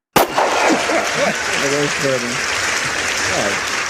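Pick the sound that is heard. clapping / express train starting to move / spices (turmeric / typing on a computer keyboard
clapping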